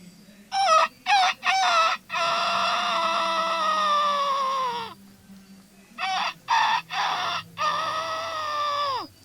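A mimicry artist imitates a rooster with his voice, giving two loud, close crows, each opening with short clipped bursts and stretching into a long falling cock-a-doodle-doo call.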